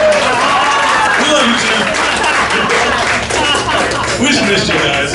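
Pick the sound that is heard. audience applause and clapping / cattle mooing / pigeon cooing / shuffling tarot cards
audience applause and clapping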